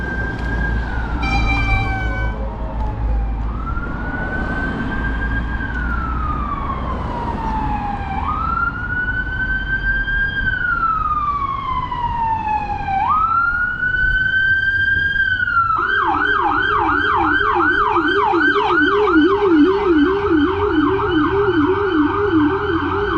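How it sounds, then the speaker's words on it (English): An emergency vehicle siren passes close by on a street during an e-bike ride, loud and continuous: long rising and falling wails give way to a rapid yelp near the end, over steady road noise. "There's an emergency vehicle."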